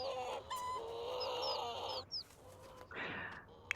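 A chicken in the video game The Sims 4 clucks and chirps in a short run of bright, rising calls over a soft farmyard ambience, fairly close and clear, with no talking.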